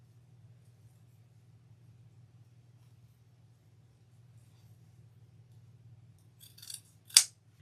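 Scissors snip through burlap for a wreath, two quick crisp cuts near the end after a long stretch of near silence with only a low steady hum.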